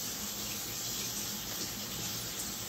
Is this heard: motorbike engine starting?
no